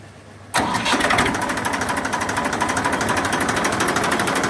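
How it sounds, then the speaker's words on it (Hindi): After a brief quiet moment, a 1999 Massey Ferguson 1035 DI tractor engine cranks and starts, settling into a loud, rapid diesel chugging that keeps running. "आवाज़ बहुत अच्छी है, मैं सुनवाता हूँ आपको।"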